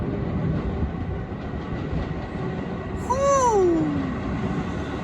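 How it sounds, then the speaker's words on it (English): A PATH train passes through Harrison station, its rumbling roll steady and moderately loud throughout, with a brief squealing whine rising and falling partway through. "and a PATH train."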